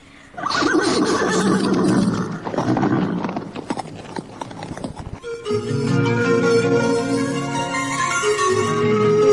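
A horse neighs loudly and close, with hoof clip-clop and a long whinny, in an Indonesian radio drama scene, the sounds running for several seconds with no talk over them.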